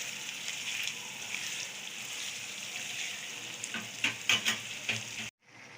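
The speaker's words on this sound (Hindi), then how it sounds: "मिक्स कर लूंगी करेलों को अच्छी तरह से।" Bitter gourd sizzles and hisses in a hot frying pan while a spoon scrapes and stirs, a few sharper clinks near the end before it cuts off.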